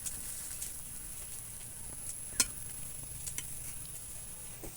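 Bread slices fry in a pan for a quick children's breakfast, giving a faint, steady sizzle with light crackles that continues throughout and stays low and close.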